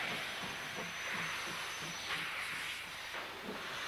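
New Zealand C-class steam locomotive No. 262, a 1930s heavy shunting engine, working in Frankton yards: a faint, steady broadband hiss of steam over a soft low rumble, heard from a distance with no voices.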